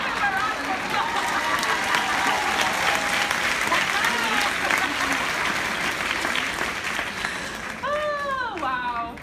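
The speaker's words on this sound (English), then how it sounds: "Give him a round of applause." Audience at a women's summit applauding in a steady, dense wash of clapping that lasts several seconds, with loud whoops and cheers rising near the end.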